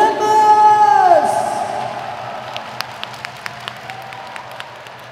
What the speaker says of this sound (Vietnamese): Vỗ tay bằng lớn các bạn.